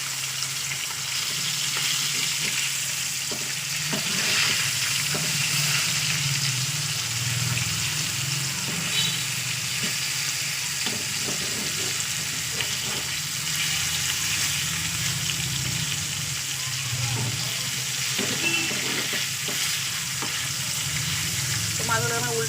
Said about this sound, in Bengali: আমি এক এক সব মাছগুলো দিয়ে দিয়েছি, মাছগুলোকে ভাজা করছি।